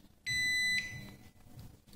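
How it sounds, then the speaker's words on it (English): A multimeter on continuity mode beeps while testing the commutator segments of a starter motor armature, giving one steady high tone about half a second long over quiet workshop background. "You can put it on beep so that it can show you continuity"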